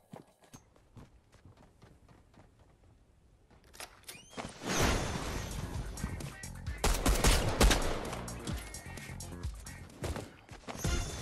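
Fortnite gunfire sounds in a series of sharp cracks and bursts over a busy game mix. It starts as sparse distant shots, then builds to a loud, dense volley of rapid fire.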